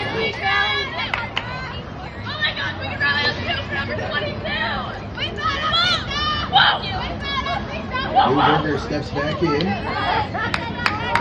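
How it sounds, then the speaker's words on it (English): Softball dugout players cheer and chatter for their center fielder in a lively, continuous babble, with a play-by-play voice talking over the crowd noise at a high school game. "Hawks dugout having fun and cheering on their center fielder"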